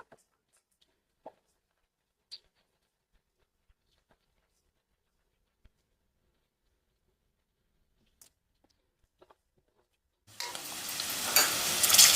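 Curry leaves and onions go into hot oil after a near-silent stretch with a few small clicks. A loud, dense sizzle then bursts up and carries on to the end.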